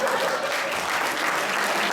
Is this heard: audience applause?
yes